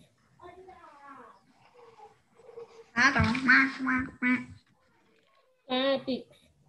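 Several nasal quacking calls, a few soft and then a louder burst, sounding like a voice imitating a duck, with quiet pauses between.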